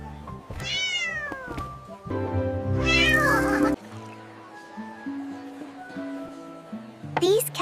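Cats and kittens meow repeatedly, several distinct close mews of varying pitch, with a longer loud cry in the middle and another sharp meow at the end.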